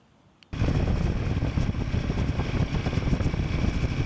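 Royal Enfield Himalayan 450 motorcycle being ridden over long speed humps: after a brief quiet start, a loud, sudden, sustained roar of engine and rushing wind, steady and close for the rest of the clip.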